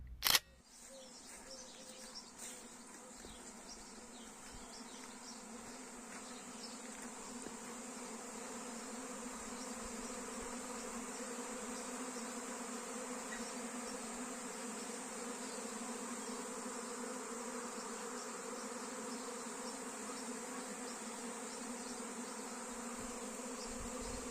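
A honeybee swarm buzzes continuously, a dense steady hum with insect whine that stays fairly faint and even throughout, after a short click at the start.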